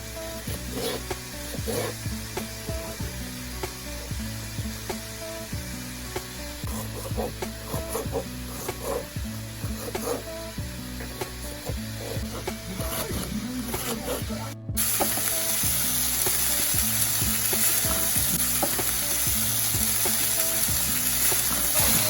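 Turkey burger patties fry in a pan over medium heat with a constant crackling sizzle that turns abruptly louder and brighter partway through.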